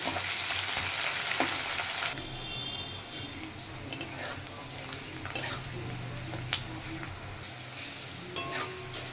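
Chopped onions fry in oil in a pan until reddish, a continuous close sizzle with a few sharp clicks and knocks of a utensil against the pan.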